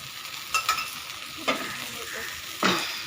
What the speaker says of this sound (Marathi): नंतर असं थोडं तेल सोडायचं